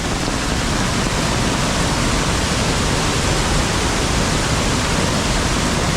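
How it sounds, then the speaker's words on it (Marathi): A loud, constant roar of rushing water, dense and unbroken like a swollen stream in full flow, with no voices; a small stream swollen by heavy monsoon rain in Konkan. "जबरदस्त पाणी आलंय मित्रांनो व्हाळाला, जबरदस्त."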